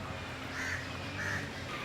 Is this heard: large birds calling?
yes